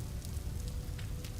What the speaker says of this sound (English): I think the rain is ending